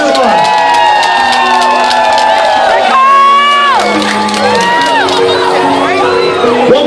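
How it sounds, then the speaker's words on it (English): Crowd at a wedding first dance cheers, whoops and shouts loudly and continuously, with bright voices rising and falling over music for about seven seconds. "Make some noise for him. Cheer on."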